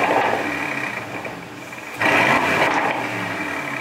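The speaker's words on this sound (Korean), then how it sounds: "이것만으로도 충분히 이 배기음이 잘 전달이 되고요" Aston Martin DBX SUV cruising on a road in GT normal mode, its exhaust a steady droning hum heard from inside the cabin that swells louder for a moment midway.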